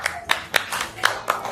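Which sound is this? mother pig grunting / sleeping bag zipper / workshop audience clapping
workshop audience clapping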